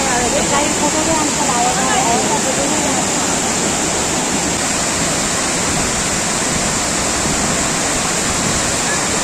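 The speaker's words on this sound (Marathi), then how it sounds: "बघा किती भारी असं सर्व धबधबा आहे." Savatkada waterfall in Rajapur, Konkan, pours with a dense, constant roar of rushing water, loud and close throughout, with voices faintly mixed in.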